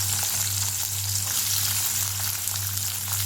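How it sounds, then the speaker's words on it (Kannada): Tempering sizzling in hot oil for a horse gram dal palya, a steady close frying crackle with a low continuous hum underneath, no voices. "ಈಗ ಬೇಳೆ ಇದು ಪಲ್ಯಕ್ಕೆ ಒಗ್ಗರಣೆ ಹಾಕೋಣ"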